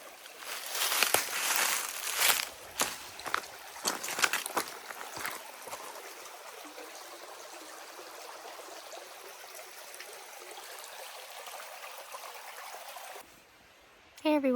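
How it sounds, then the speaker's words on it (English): Reed Creek on the Appalachian Trail flowing and trickling steadily nearby, with some louder splashing and handling noises at the start and a brief drop-off near the end. "And then Reed Creek, which is right over here. We can grab our water and listen to this"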